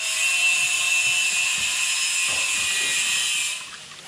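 Fujima 1.5 horsepower silent-type air compressor running, a steady high whirring hum with faint mechanical ticks underneath, close and continuous before easing off near the end.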